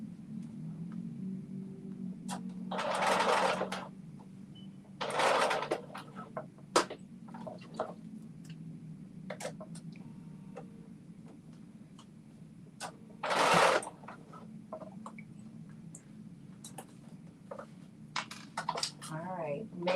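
A sewing machine stitches a dress top in short whirring bursts of a second or so, separated by pauses, with quiet clicks and handling noise and a person talking between runs.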